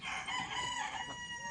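A rooster crows among a household flock of chickens in a village yard, a single sustained call heard at moderate distance.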